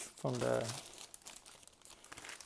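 A small plastic bag being crinkled and handled during a Ducati Monster dashboard vinyl job, quick papery rustles after a short burst of speech.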